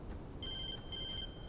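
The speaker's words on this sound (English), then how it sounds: "Phone call!" A telephone ringing in the video game Alan Wake Remastered, two short electronic trill bursts separated by a brief gap, clear and moderately loud over a low ambient rumble.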